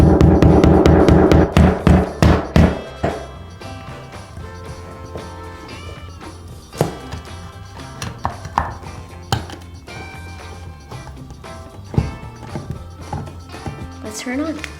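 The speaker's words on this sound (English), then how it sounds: "I'm going to use a nail and just kind of like make the hole" Sharp, uneven tapping of a hammer striking a nail into a wall, with a fast burst of blows at the start and then scattered single knocks.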